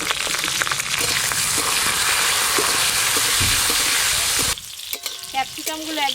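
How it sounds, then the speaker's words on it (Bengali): Capsicum frying in mustard oil gives a loud, steady, close sizzle that cuts off abruptly near the end, leaving a few quieter clinks and faint tonal squeaks from the pan. "ক্যাপসিকামগুলো প্রথমে ভেজে নেব।"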